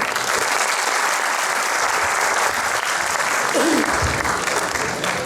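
An audience at a Faiz Ahmad Faiz festival poetry session applauds Professor Naila Riaz Bhatt with sustained, dense clapping that swells and stays loud throughout.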